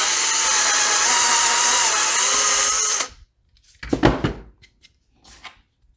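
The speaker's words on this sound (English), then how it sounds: "I'm just gonna drill a big hole and we'll fill it with epoxy" A power drill bores a large hole into a 12-inch wooden glide bait, a loud steady whine for about three seconds that cuts off abruptly, followed by a few short clattering knocks and handling noises.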